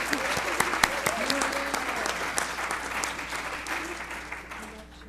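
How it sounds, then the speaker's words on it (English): A Unity church congregation at a Sunday service claps for a presenter, warm steady applause that gradually fades over a few seconds, with some voices faintly mixed in. "round of applause for Amelia"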